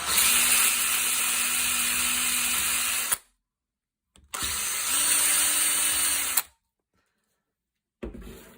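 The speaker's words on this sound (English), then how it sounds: "just drill out that screw way a tiny bit" A power drill whirs loudly in two bursts of about three seconds each, drilling out a screw hole in a shotgun, separated by silence, with a brief third start at the end.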